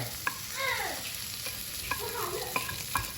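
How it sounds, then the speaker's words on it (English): Scrambled eggs and softened red onions tossed in a hot wok for egg fried rice, giving a steady close sizzle broken by light knocks and scrapes of the utensil. "Put all the eggs in and you give that a nice little mix. The wok is hot, remember?"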